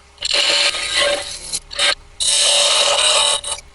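Quick rasping strokes of sandpaper on a small carved wooden fisherman figure, close and loud, in three bursts of rubbing with short pauses between.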